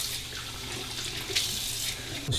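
A tap runs steadily into a sink while a freshly shaved face is rinsed, giving an even, close hiss of flowing water with faint splashes and no talk.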